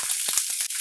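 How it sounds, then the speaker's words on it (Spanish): Zucchini slices sizzle and fry in a little oil on a hot griddle, a steady close hiss with faint crackling pops. "En una plancha añadimos un poco de aceite y vamos colocando las láminas de los calabacines"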